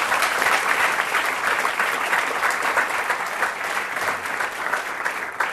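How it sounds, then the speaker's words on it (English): An audience claps steadily in a dense, even round of applause after a talk, loud and sustained throughout with no pauses. "Let's give a big round of applause."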